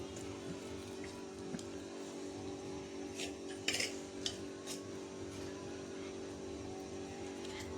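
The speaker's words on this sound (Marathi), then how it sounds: "आता आपण पूर्ण मिक्स करून घेतोय।" Fried paneer and rice for paneer biryani stirred together in a cooking pot, with soft scraping and a few light clinks over a steady low kitchen hum.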